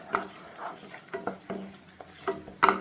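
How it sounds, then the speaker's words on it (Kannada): Chili powder and black pepper powder, together with chicken and coriander powder, frying and being stirred in a pan, with quiet sizzling and soft scraping strokes at a steady rhythm. "ಇದು ಸ್ವಲ್ಪ ಕಾಳು ಮೆಣಸು ಪುಡಿ ಇಷ್ಟನ್ನು ಹಾಕ್ಕೊಂಡು ಸ್ವಲ್ಪ ಇದನ್ನು ಫ್ರೈ ಮಾಡ್ಕೊಳ್ಳೋಣ."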